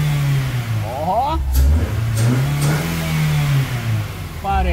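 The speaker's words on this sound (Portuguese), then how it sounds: "o carro deu uma pipocada no começo." A Volkswagen Gol G3 engine runs and revs steadily after a fuel pump refill replacement, a close mid-pitched motor drone that rises and falls while a person talks over it.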